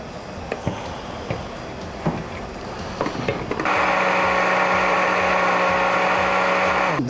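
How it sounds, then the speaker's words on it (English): A kitchen blender whirs loudly and steadily, churning cilantro, garam masala, garlic ginger paste and oil, following several sharp clicks and knocks from loading the jar. "blending everything together in a blender"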